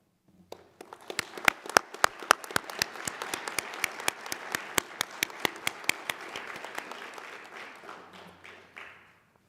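An audience at a high school Veterans Day program applauding to congratulate Boys State representatives: a full round of clapping, sharp individual claps over a dense wash, swelling then tapering off.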